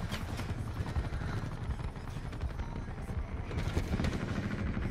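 Helicopter in the video game Call of Duty Black Ops 4, a low continuous rotor thrum with rapid chopping pulses, moderately faint, with scattered game sounds mixed in.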